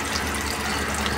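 Water runs steadily into a plastic bag lining a cooking pot that already holds bananas, a close continuous rushing and splashing that fills the whole moment without a break.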